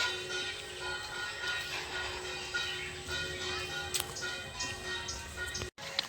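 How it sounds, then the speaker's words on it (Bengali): A 9:08 train rolls past a station platform with a steady rumbling, hissing roar and a faint tonal whine, near and continuous, with a brief dropout near the end. "নটা আটের ট্রেন এই যাচ্ছি"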